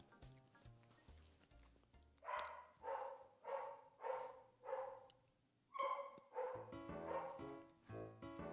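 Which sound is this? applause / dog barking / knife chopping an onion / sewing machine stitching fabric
dog barking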